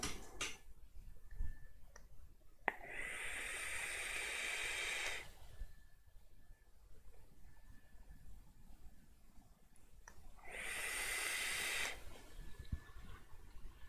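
A person blowing their nose, with two strong bursts of breathy nasal blowing separated by quieter rustling, close to the microphone and without speech.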